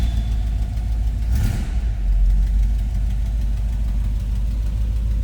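A 1961 Chevrolet Bel Air two-door sedan's engine running close by, a steady low rumbling idle with a brief rise near the start, no voices.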